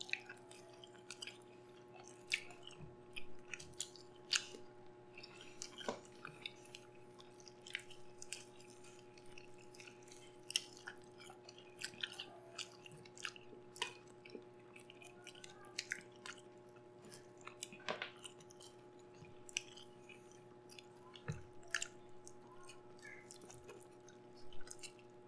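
Close, quiet chewing of grilled pork belly and roast chicken at a mukbang meal: soft wet smacks and squishy bites repeat steadily throughout over a faint constant hum, with no talking.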